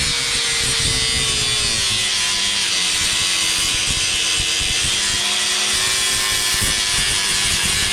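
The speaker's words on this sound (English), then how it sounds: "clean that up with a grinder and then weld it back on" An angle grinder works steadily over weld on the metal of a cheap bulldozer under repair, a loud continuous whine with rough grinding texture throughout, no pauses and no talking.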